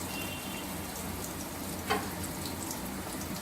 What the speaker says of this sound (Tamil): ஒரு 10-15 மினிட்ஸ் பொறுமையாகவே இதை ஃப்ரை பண்ணுங்கள்.